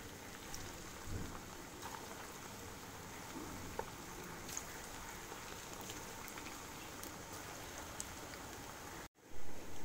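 Aloo gobhi kofta fry in hot oil with a dense, steady crackling and sizzling, soft and continuous throughout.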